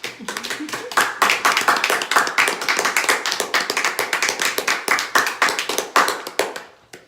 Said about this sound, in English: I'll take a round of applause